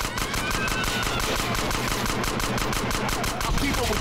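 Sustained automatic gunfire from GTA San Andreas, a dense continuous rattle of rapid shots at steady loudness with no pauses, loud and close throughout.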